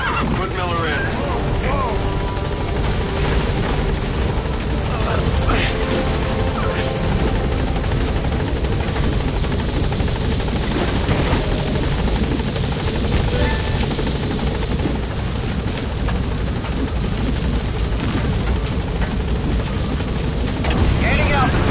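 A military helicopter in the Metal Gear Solid V game climbs steadily, its rotor drone loud and continuous throughout, with people talking over the engine noise.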